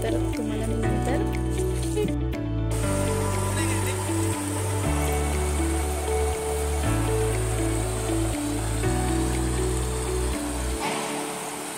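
Small waterfalls flowing at a resort in Karjat, a steady rushing splash of water heard close and continuous, with a low droning hum and voices talking over it.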